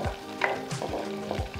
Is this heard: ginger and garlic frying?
yes